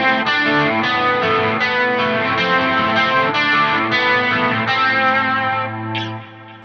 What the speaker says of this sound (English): So full humbucker bridge,